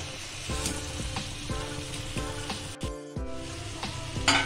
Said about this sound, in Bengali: এরপর ফ্রাই করা আলু দিলাম